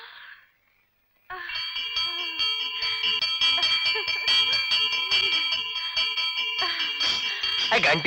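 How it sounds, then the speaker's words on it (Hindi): A sustained, bright bell rings loudly and continuously for several seconds after a short pause, with voices talking faintly underneath. "घंटी बजने का आवाज किधर से आता है?"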